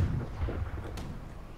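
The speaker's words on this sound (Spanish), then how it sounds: "Lado derecho para disparar a la goleta pequeña." A ship's cannon broadside fires in the naval video game Blackwake toward a small schooner, a single muffled, distant boom with a rumbling tail, fairly faint.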